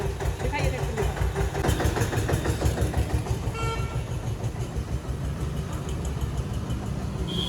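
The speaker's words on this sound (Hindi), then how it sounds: "ट्रैक्टर की आवाज़ आ रही है" A tractor engine runs steadily in a rural village setting, a close and continuous mid-low rumble with voices talking over it.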